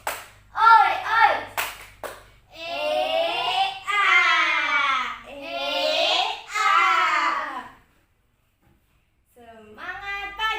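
Children in a classroom clap in short rhythmic bursts during a group cheer, their chanting voices loud and close between and over the claps.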